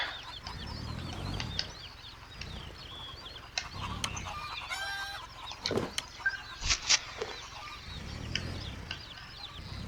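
Chickens in a PS4 video game cluck and squawk repeatedly against a steady background hum, with scattered sharper calls and clatters mixed in.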